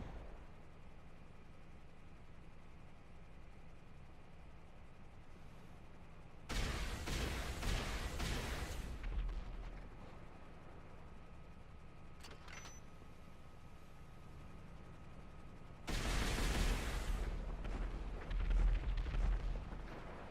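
A long-range vehicle weapon in GTA 5 Online fires in two loud, sustained bursts of several seconds each, separated by a quieter stretch with a low background hum and a brief blip between them.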